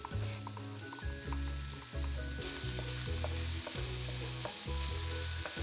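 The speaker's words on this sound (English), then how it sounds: "Saute until fragrant and then add the black beans and saute for another minute or 2." Garlic, ginger, shallots and black beans sauté in hot oil with a continuous close sizzle that holds steady throughout, under rhythmic background tones.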